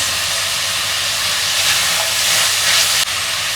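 Onion goes into a hot pan with capsicum for a chow mein stir-fry. A loud, steady sizzling hiss fills the whole stretch, with no voices.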